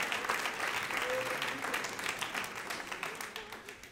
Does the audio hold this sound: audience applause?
yes